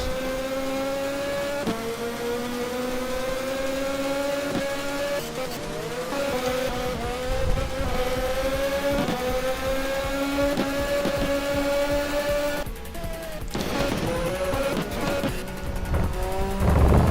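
Race cars in a racing video game drive through a chicane section, their engines droning and shifting pitch continuously, loud and close, with occasional tire noise.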